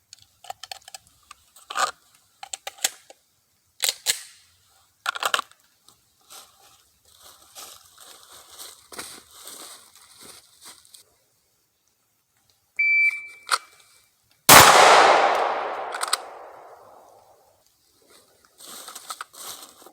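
Pistol shots at balloons during draw-and-shoot practice at 5 yards, a few sharp cracks spread across the stretch with one loud blast and a decaying ring near the end, set among quieter clatter and range noise.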